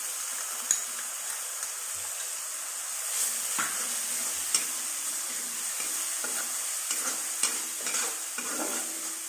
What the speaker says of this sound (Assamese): এইখিনি ভাজি ল'ম আৰু ভালকৈ।